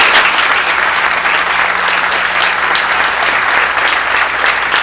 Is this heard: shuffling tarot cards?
no